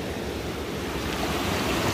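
River water rushing through a rocky canyon below a waterfall, running higher than usual, a loud, close, steady roar with some wind buffeting and no voices.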